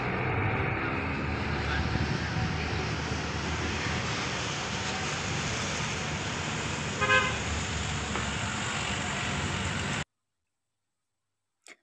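Busy ambience at Arjosari bus terminal, a steady rumble of idling engines and traffic, with a short vehicle horn toot cutting through around the middle before the sound cuts to near silence.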